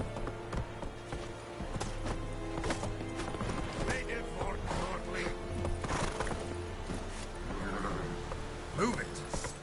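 Roach, a horse in The Witcher 3 video game, gallops with rapid rhythmic hoof clip-clops over steady game ambience, moderately loud and continuous.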